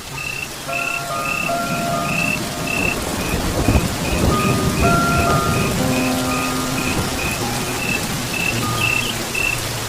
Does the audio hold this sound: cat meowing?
no